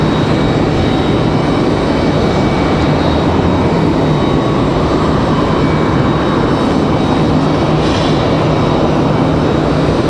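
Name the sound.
airliner flying over Raleigh Durham airport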